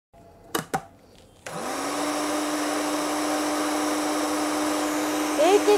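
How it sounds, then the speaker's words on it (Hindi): After a few short knocks, an electric blender switches on at close range while mixing homemade skin-cream ingredients, holding a steady, loud motor whine with a slight pitch shift near the end. "इसको ब्लेंड कर लिया करें ब्लेंडर में डाल के"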